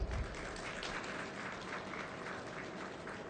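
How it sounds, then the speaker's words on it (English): Applause from the audience at an Indian banking conference session as a memento is handed over, a steady even wash of clapping at low level through the whole stretch, no voices. "Can we have a round of applause, everybody?"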